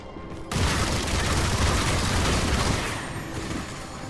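Grenade explosion in the game Armatus, a sudden loud blast that keeps rumbling densely for several seconds, with what sounds like heavy gunfire mixed in and no talk.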